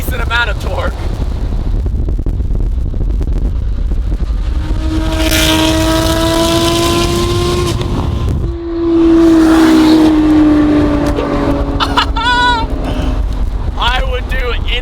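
A car engine drones under heavy wind rush while driving hard to keep pace with a V12 Ferrari, with rising engine tones swelling and falling as it accelerates.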